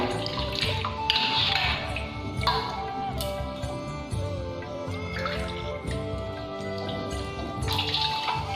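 Water poured over a small deity idol during a Hindu home puja bathing ritual, a steady close trickle and splash with faint drips and ticking over continuous background sound, no speech.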